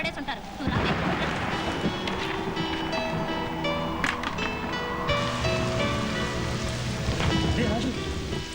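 Steady rain pours in a dramatic scene from the Telugu film Raju Bhai. A continuous hiss runs throughout, blended with a tonal musical score.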